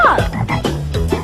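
A frog croaks in a quick rhythmic series of loud, close, throaty pulses, about four or five in just over a second, with no other sound.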